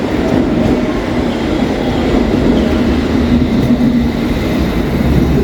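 A London Underground train at Old Street station rumbles loudly and steadily, a continuous close roar of wheels on rails with no voices over it.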